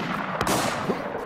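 A single sharp gunshot in the video game Infectz, cracking loudly just under halfway through over a busy background of game noise.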